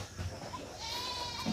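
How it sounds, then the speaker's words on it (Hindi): A goat bleats while being fed jamun fruit in a village in Uttar Pradesh, a drawn-out nasal call rising clearly over quiet outdoor background. "बकरी जामुन खिला रहा हूँ"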